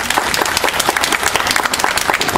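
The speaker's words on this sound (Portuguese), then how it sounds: "uma salva de palmas" Audience at a ufology academy lecture in São Paulo applauds a speaker being introduced: loud, dense clapping from many hands, continuous and close throughout.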